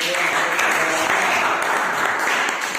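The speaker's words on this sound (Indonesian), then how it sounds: "Sekarang kembali kita berikan tepuk tangan" A class of students gives a round of applause during a teaching practice lesson, steady and fairly loud clapping that fills the room for nearly three seconds.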